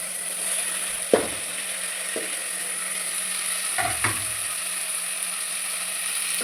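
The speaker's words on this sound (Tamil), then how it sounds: "போட்டு அதையும் நல்லா வதக்கணும். தக்காளி நல்லா வதங்கணும்." Quiet background hiss with a few soft scrapes and knocks of a spatula stirring chopped tomatoes sautéing in a pan, spaced irregularly; no talking.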